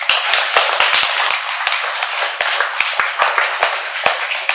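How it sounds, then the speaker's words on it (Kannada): A large audience claps loudly at a meditation talk, producing a dense, sustained burst of applause with sharp individual hand strikes throughout and no voices. "ನಮ್ಮೆಲ್ಲರಿಗೂ ಜೋರಾಗಿ ಚಪ್ಪಾಳೆ ಹೊಡೆಯೋಣ"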